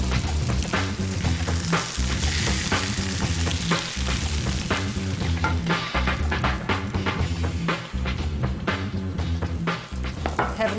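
Salmon fillets sear in a hot pan with a steady, close sizzle that carries on throughout under rhythmic background music.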